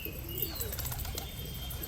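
Pigeons released on a New Year's morning flap and chase one another overhead, wingbeats and soft calls mixed with brief chirps over a steady low background rumble, close and fairly loud throughout.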